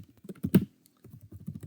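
Fingers tap a computer keyboard close up, typing a terminal command in quick irregular clusters of keystrokes with a brief pause midway, with no one speaking.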